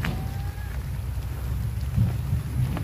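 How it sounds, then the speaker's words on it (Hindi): Rain falls over open vegetable fields as a steady, fairly loud hiss, with low gusty rumble from wind and a few brief tonal sounds early on. "तो बारिश देखें, बारिश हो रही"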